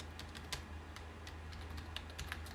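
Quick bursts of typing on a computer keyboard, close and fairly quiet, with irregular clicky keystrokes over a low steady hum and no talking.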